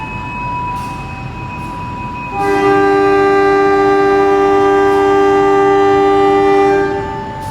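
Sancaka Utara container freight train, fully loaded with containers, departing Cepu station at night: a loud, sustained multi-tone train horn sounds steadily for about five seconds over the rumble of the engine and wagons.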